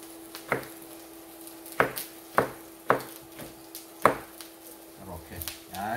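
A knife slices through Texas brisket into thin pieces on a cutting board, giving five or six sharp, evenly spaced chops against the wood that sit close and moderately loud in a quiet room, with a soft rustle at the end.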